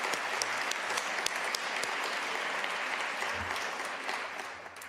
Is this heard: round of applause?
yes